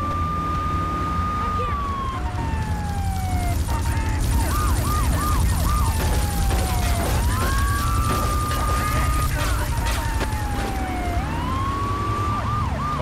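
A helicopter in Grand Theft Auto 3 drones loudly and continuously over a hydroelectric dam area, mixed with rising and falling police sirens and scattered gunfire-like bursts in the game.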